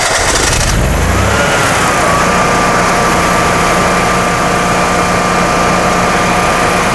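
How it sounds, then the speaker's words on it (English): Generac air-cooled standby generator engine set to manual mode, starting with a brief rising whir then settling into a loud, steady close-up drone with a constant high whine throughout. "And then just let it run for 5 to 10 minutes for the oil to warm up before you work on it."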